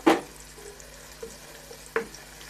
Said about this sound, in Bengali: ভালোভাবে নেড়ে চেড়ে ভেজে নেব। এখন হাফ চা চামচ জিরা দিয়ে দিছি।